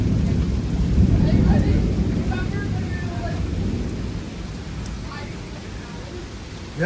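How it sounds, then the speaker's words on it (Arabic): Deep rumbling thunder rolls under steady rain during a strong storm in Windsor, Ontario, Canada, a continuous low roar with faint crackles, fairly close and loud throughout. "اذا ملاحظين صوت الرعد ما وقف على الاطلاق."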